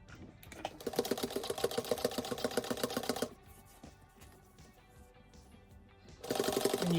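Sewing machine top stitching a canvas pencil case, a close, rapid rhythmic needle chatter running for a few seconds, pausing to a low hum, then starting up again.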